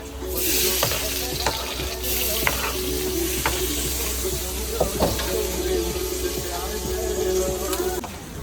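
Fish fries in hot oil at a seaside food stall in Fort Kochi, a close, steady sizzle broken by sharp clinks and scraping of a utensil, with faint voices in the background.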